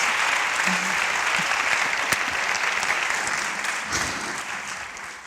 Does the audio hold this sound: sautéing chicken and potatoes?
no